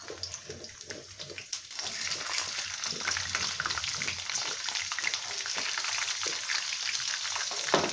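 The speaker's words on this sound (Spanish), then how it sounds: "Voy a comenzar friendo ajos." Steady crackling sizzle of garlic frying in hot oil for salsa macha, continuous and close, with faint clinks and bubbling throughout.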